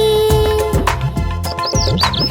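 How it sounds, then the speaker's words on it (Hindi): Cartoon sparrow chirps from a Hindi children's poem, several quick high tweets repeating over a steady bed of song music. "चिड़िया रानी बड़ी सयानी, नित सवेरे हमें जगाती"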